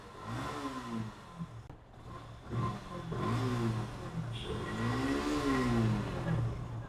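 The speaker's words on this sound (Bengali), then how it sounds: "তো গাড়িটার ইঞ্জিন সাউন্ড ঠিক আছে" Yamaha FZ V3 motorcycle, a 2022 model, idling then revving in repeated throttle blips, its engine note rising and falling several times at close range with no talk.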